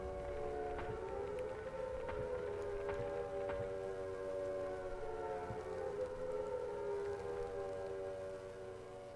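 A wavering air raid siren in the video game Silent Hill wails steadily and loudly for the whole stretch, rising and falling slowly, with faint clicks underneath.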